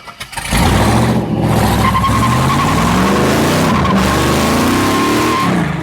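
A 1967 Chevelle with an LS engine swap runs hard on a test drive, a loud, close, continuous engine roar with rising revs and tire noise throughout.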